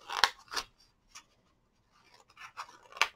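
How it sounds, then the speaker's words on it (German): Crisp scissor snips cutting two small flaps into a house-shaped Stampin' Up! paper box, a few close, sharp cuts spaced irregularly with quiet gaps between them. "Und hier unten schneide ich 2 Flügelchen rein"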